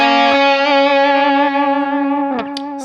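Electric guitar through a Digitech RP1000 with the distortion switched off, a single clean sustained note that slowly fades over about two seconds, then a quick pick scrape near the end.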